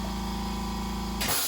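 Airbrush spraying green paint onto a 1/48 Tamiya Bf 109 E-3 model aircraft, heard as a steady close hiss with a constant mechanical tone underneath that cuts off sharply near the end, with no talk.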